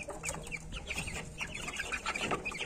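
Two-month-old chickens, a few young males among them, packed in a fruit basket, cluck and chirp in a busy overlapping stream close by, with no talk.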